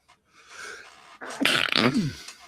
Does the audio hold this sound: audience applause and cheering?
no